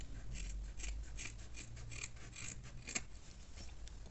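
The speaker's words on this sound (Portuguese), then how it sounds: "faz esses cortezinhos com a tesoura comum" Ordinary scissors snipping small cuts into fabric while making a small wallet, a quick series of close, crisp clicks and rasps at an uneven rhythm.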